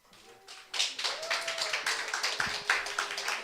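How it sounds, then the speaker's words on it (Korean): A church meeting audience claps in a brisk, steady rhythm, a run of sharp hand claps rising quickly and holding for a few seconds, with a faint voice and tone at the start. "제일 세게 박수 치네"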